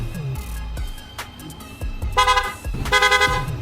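A Yamaha Aerox V2 motorcycle engine revs and sputters, then an aftermarket Senlo M1 Plus and PIAA loud horn blares twice in quick succession, close and piercing.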